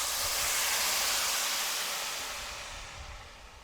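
Stock ladled into hot toasted rice for risotto meets the pan with a loud, bright hiss that gradually fades to a softer sizzle.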